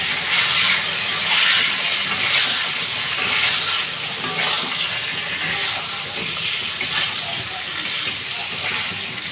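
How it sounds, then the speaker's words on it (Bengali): Cut eggplant and potato pieces sizzle loudly in hot oil in a pan, a continuous close hiss and crackle with stirring noises throughout. "এখানে তেলটা গরম হয়ে গেছে, এর মধ্যে কেটে রাখা বেগুন আর আলুটা দিয়ে দেবো।"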